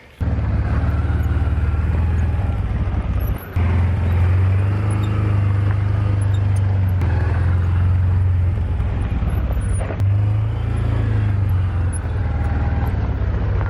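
Car driving slowly over a freshly patched pothole in an asphalt driveway, its engine humming steadily and loudly up close with a brief dip partway through.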